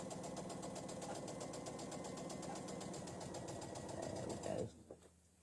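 A sewing machine stitches fabric for a two-tone star quilt block, running as a steady fast mechanical whir and clatter at close range before stopping abruptly near the end.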